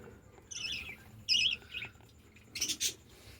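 Budgerigars in a breeding colony kept in cages give short, bright chirps and squeaky calls in three separate bursts, close by against a quiet background.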